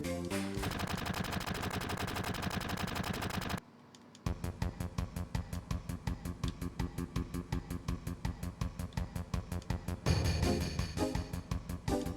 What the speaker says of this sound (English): Let's use our guns!